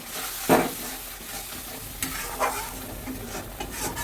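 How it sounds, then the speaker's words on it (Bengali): Spice paste of turmeric and chili powder mixed with water, frying in a pan, sizzling steadily with a few sharp scrapes and stirs of a utensil, close and moderately loud, no voices. "এবার মশলাগুলো ভালো করে রাতলে নেব"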